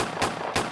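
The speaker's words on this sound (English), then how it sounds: "Gunshot." Two short, sharp gunshot sound effects crack out at a steady spacing, loud and punchy, with no speech over them.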